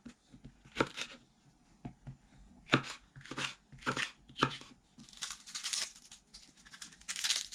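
Sweet green peppers being roughly chopped with a knife, a handful of crisp, separate cuts on a board, then quicker, denser cutting toward the end, close and fairly quiet.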